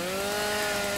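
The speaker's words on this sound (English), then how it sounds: "Super Crew chainsaws to the rescue" A toy chainsaw drones with a steady, buzzing motor whine while pretending to cut a tree trunk, continuous and fairly loud, with no talking.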